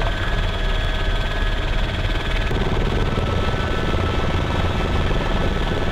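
A helicopter in the military game Arma 3 flies with a steady, loud rotor and engine drone that holds unbroken throughout, with no talk over it.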